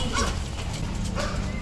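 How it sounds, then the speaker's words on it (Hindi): Several dogs barking in the distance at an outdoor street square, a few faint, scattered barks and yips over steady background noise, without talk. "काफी कुत्ते हैं ना दूर से ही भौंक रहे"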